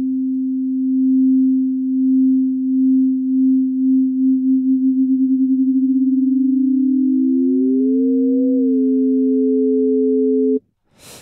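Steady sine tone run through Ableton's Frequency Shifter with stereo spread, a pure hum that slowly wobbles and beats, then splits as a second pitch glides upward before cutting off abruptly.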